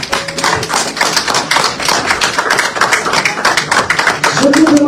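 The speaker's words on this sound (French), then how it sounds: "Est-ce qu'on peut applaudir pour son présence?" Audience clapping at a press conference with a musician, fairly loud and close, with distinct individual claps and thumps, and voices heard over the applause near the end.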